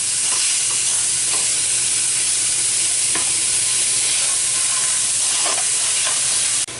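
Ground beef frying in a pan over medium heat for stuffed peppers gives a loud, steady, close sizzle that barely changes throughout, with faint scrapes of stirring under the hiss and no talking.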